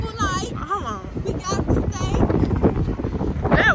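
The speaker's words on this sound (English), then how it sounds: "That wind." Strong wind buffets the microphone outdoors on a cold night, a constant roaring rush with a few faint voices or whistles over it.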